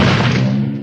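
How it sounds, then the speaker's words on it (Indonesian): A character in the One Piece anime is kicked hard into a tree: one heavy, loud thud with a booming body that fades out over under a second. "Gaimon pun menendang Bagi sampai menghantam pohon."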